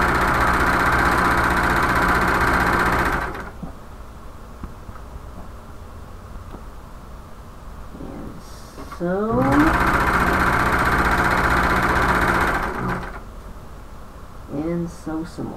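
A sewing machine stitches a shoulder bag lining in two loud, steady runs of rapid whirring, separated by a quieter pause with small handling clicks and brief speech.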